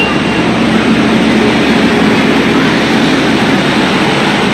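A loud, continuous low rumble of a train engine or passing rail cars at Yeshwantpur railway station, steady and droning without a break.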